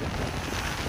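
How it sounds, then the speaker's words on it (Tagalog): Strong wind blows across a beach where big afternoon waves are rolling in, making a steady, close roar of gusty noise with no let-up. "naglalakihan na ulit yung alon and sobrang lakas din po ng hangin."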